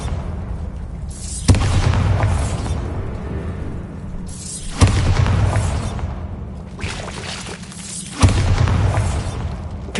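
Three heavy magical blasts from Confringo and Bombarda spells in Hogwarts Legacy burst out about three seconds apart, each a loud boom followed by a long rumbling, crackling tail, with no talking.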